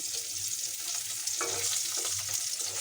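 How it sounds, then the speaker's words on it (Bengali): Small folui fish frying in hot oil in a kadai, a steady dense crackling sizzle with occasional louder spits and stirring scrapes, close and continuous with no talking. "এই যে আমি তরকারি রান্না করার জন্য মাছগুলো ভেজে নিচ্ছি"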